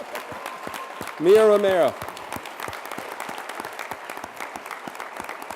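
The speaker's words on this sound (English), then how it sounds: "Gonna have to keep clapping until she makes it up here." Sustained audience applause at a 2015 business challenge scholarship award ceremony, steady clapping throughout with a short spoken name called out briefly over it.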